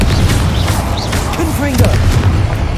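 Short burst of the Incendio fire spell in Hogwarts Legacy, a low rumbling whoosh and boom that is loud and steady for a couple of seconds, with faint chirps and tonal game effects layered above.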